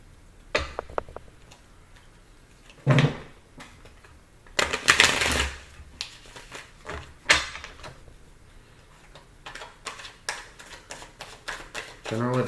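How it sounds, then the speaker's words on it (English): Tarot cards being shuffled in short riffling bursts, close and crisp, with quiet gaps and soft handling noises between them. "Let me move these up, guys, so I can have space to shuffle."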